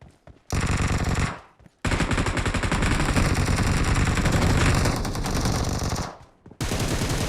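Rapid automatic gunfire from the video game PUBG, played on a Vivo X80 phone, rattles in loud dense bursts with brief pauses between them, close and dominant with no talk over it.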